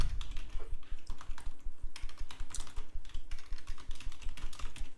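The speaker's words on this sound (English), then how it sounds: "I was typing so much." Fast, steady typing on a computer keyboard, a dense run of close, crisp key clicks continuing for several seconds with no voices.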